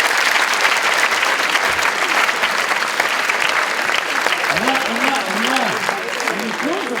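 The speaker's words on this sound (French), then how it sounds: "Très bien, on peut l'applaudir, merci." Audience applause after a hypnosis show, a steady dense clapping from a crowd filling the room, with a voice speaking briefly over it near the end.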